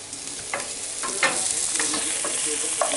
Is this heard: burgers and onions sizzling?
yes